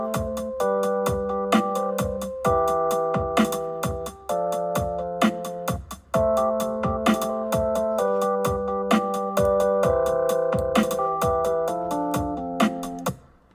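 A simple pop song chorus from a GCSE composition plays back, with steady repeating melody and chords over a rhythmic beat, continuous and moderately loud with no talking.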